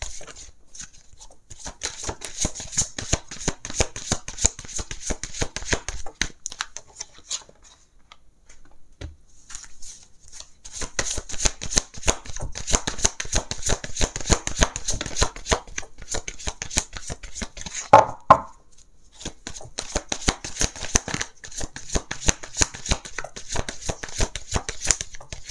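Lenormand cards shuffled by hand in long runs of rapid, crisp riffling clicks, pausing briefly before resuming, close and alone without talk.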